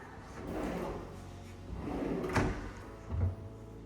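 Soft-close kitchen drawers in a townhome slide shut with muffled thuds, two or three gentle bumps close by over a quiet room.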